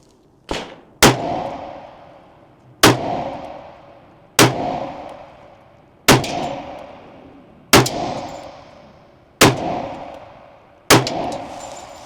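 Eight sharp, loud shots from a 10mm Smith & Wesson M&P Carry Comp pistol, spaced roughly one and a half seconds apart outdoors, each followed by a fading echo.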